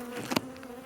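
Bees buzzing during a colony extraction, a faint steady hum of many insects with a brief closer buzz sweeping past.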